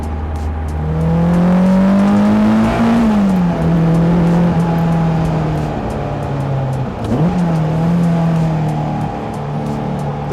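A 560 kg Caterham Seven sports car with 180 bhp accelerates hard alone, its engine note climbing steadily and loud up close, dipping briefly at a gear change and then pulling again.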